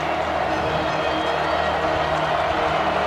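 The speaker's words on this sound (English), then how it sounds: "Listen to this crowd." A packed football stadium crowd at a night-time Oklahoma vs Alabama game roars in a steady, dense wash of cheering and noise, continuous and loud throughout.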